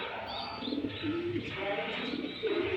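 Red Lahori pigeons in a loft during winter coo faintly, with low, drawn-out throaty notes rising now and then over a quiet, hissy background.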